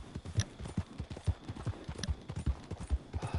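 Horse hooves clip-clop in the Red Dead Online video game, a steady rhythmic trot of distinct hoofbeats at moderate volume, with no talk over them.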